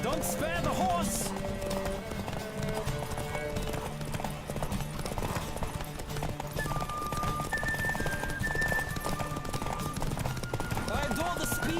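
Horse hooves clip-clop at a fast gallop in The Witcher 3, a steady rapid rhythm under music and a spoken voice, with a brief neigh near the start.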